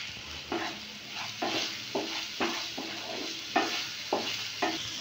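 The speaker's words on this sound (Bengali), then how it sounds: "মশলাটা আমি ভালো করে কষিয়ে দিই" Masala for chana masala sautéed in a pan, a quiet sizzle broken by about eight regular scraping strokes of a spatula stirring the spices, close and unaccompanied by speech.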